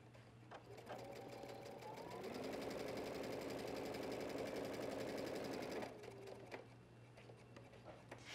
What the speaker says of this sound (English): I am going to stitch right up next to this opening about a quarter of an inch on either side of my chalk line